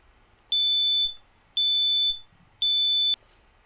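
Three loud, piercing beeps from an old smoke detector, evenly spaced about a second apart, in an otherwise quiet room.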